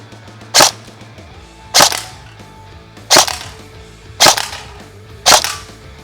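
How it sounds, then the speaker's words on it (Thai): A Bolt HK MP5 electric airsoft gun with electric blowback fires single shots at can targets, producing five sharp, loud cracks spaced about a second apart, with a faint hum between them. "เดี๋ยวไปดูช็อตยิง เป้ากันดูบ้างครับ"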